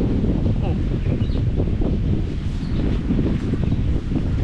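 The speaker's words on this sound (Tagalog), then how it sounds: "malakas ang hangin" Strong wind at sea buffets the microphone with a constant low roar, loud and unbroken from start to finish.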